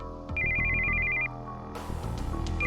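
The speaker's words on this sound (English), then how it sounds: "we heard the sound of an incoming call on a cell phone." A cell phone rings with an incoming-call ringtone, a steady electronic tone that sounds for about a second before other sounds take over, moderately loud and alone.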